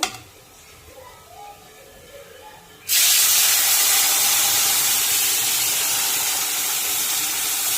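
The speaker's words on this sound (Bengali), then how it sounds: "এখন আমি 2 গ্লাস জল দিয়ে দেবো।" Two glasses of water hit red-fried rice with cashews and raisins in a hot pot for basanti polao, bursting into a loud, sustained hiss that stays strong after a quiet start.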